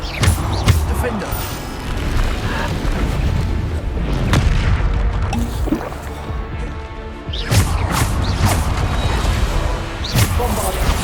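Bombarda explosion spells in Hogwarts Legacy go off as repeated booming blasts with crashing debris, mixed with other spell effects and game sounds across the whole stretch.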